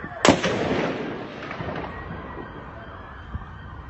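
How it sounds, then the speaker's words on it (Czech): A single sharp gunshot cracks at the start of a mass shooting at Charles University's Faculty of Arts in Prague, followed by a long echoing rumble rolling away in the distance. "Je tam, Bacha střílí, bude střílet."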